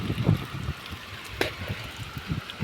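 Water runs steadily through a farm field channel, a soft continuous trickling and gurgling with light outdoor wind and a few small knocks.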